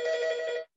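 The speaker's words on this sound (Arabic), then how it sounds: "انا اسف بس صوت التليفون هيسكت دلوقتي" Telephone rings in one steady electronic burst, close and clear, lasting under a second before stopping abruptly.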